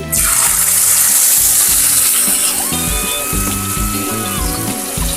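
Fish slides into hot oil alongside curry leaves, setting off a loud, close, hissing sizzle that bursts up at first and then settles into steady, bubbling frying with no talk.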